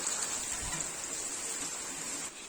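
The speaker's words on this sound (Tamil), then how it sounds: "இப்போ மழை பெய்யுது" Heavy rain pouring down in a village, a steady, dense hiss of water falling continuously and fairly close, with no voices.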